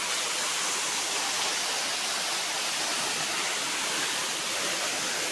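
The Kolhevajra waterfall roars as a dense, steady rush of falling water, loud and unbroken throughout, with no voices.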